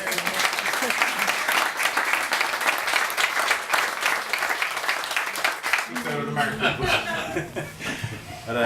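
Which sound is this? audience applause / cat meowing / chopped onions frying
audience applause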